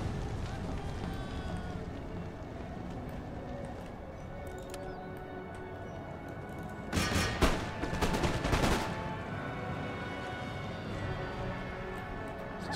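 Musket volleys in Empire: Total War crack out against a fortified wall, a dense cluster of overlapping shots bursting loudly for about two seconds midway over steady battle ambience.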